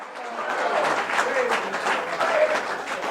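A congregation in a mosque claps together, a steady patter of hands that holds for a few seconds at moderate loudness with a faint voice beneath.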